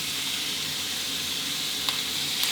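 Onion sizzling in a pan while being stir-fried with pork, a steady close hiss of frying with a couple of faint clicks near the end, no voices.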